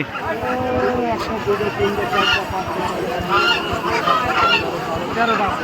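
Ducks and geese at a village poultry market, honking and quacking loudly and continuously at close range, with people talking over them.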